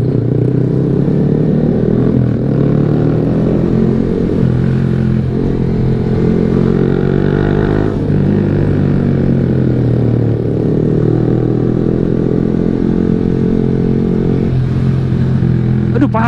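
A Yamaha R15 V3 motorcycle (2020) being ridden, its engine droning steadily and loud throughout with slight shifts in pitch as it pulls along the road, heard up close from the rider's position with wind rumble.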